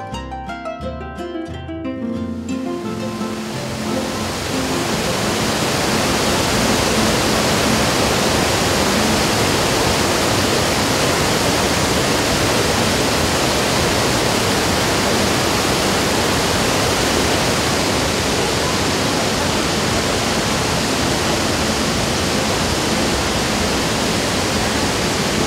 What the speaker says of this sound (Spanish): escuchaban el ruido que produce el agua al caer